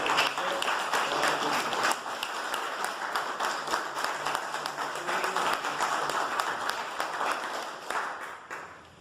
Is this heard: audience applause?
yes